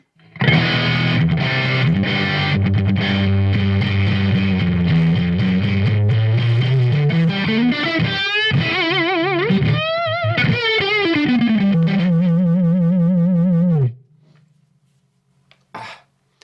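Distorted electric guitar through a Marshall Code 50 amp modeler with a 1960 HW cabinet plays loud, gritty chords and bending riffs for several seconds, then cuts off abruptly, leaving a faint amp hum and a brief noise.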